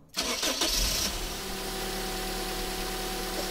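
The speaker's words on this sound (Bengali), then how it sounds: "আমরা গাড়িটা স্টার্ট করব, আপনারা একটু শুনুন ইঞ্জিন সাউন্ড।" A Toyota Hiace Super GL petrol engine cranks briefly, catches on the first try and settles into a steady, even idle close by, with no talking.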